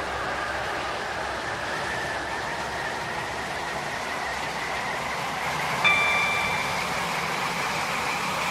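A steady rumble of a train running in a video game on a rail line, a constant droning roll with a faint tonal whine rising slightly near the end, even and unbroken throughout.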